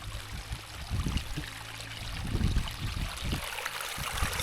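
Cold, clean stream water flowing in a Kenyan village, a steady rushing and trickling with soft gurgles, fairly close and continuous, with no talk over it.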